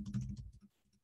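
Rapid typing on a computer keyboard, a quick burst of close clicks and clacks that trails off into quieter taps with no voice.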